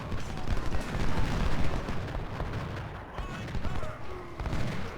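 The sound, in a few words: gunshots from cavalry in video game Ultimate General: Civil War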